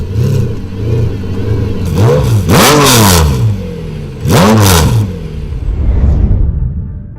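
A Mercedes-AMG 7.3-liter V12 car engine revs hard in loud surges, rising and falling twice with sweeping pitch, then settling to a rough idle before a final swell.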